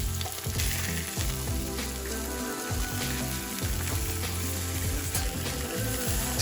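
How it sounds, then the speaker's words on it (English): Salt-and-pepper-seasoned trout frying in a skillet over medium-high heat, a loud, dense, continuous sizzle and crackle close to the pan with occasional low clatters, no one talking. "season our fish with some salt and pepper and throw that down on a skillet over a medium-high heat"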